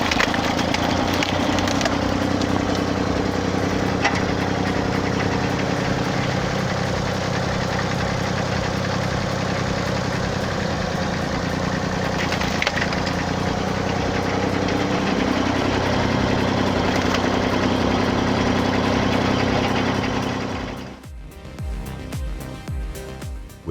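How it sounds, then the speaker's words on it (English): A loud wood chipper used for stump and log removal roars continuously with a heavy engine drone and grinding rumble for about twenty seconds, then cuts off into quieter rattling and knocks. "This machine doesn't cut wood, it devours it."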